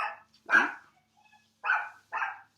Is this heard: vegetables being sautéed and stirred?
no